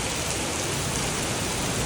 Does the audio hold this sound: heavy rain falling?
yes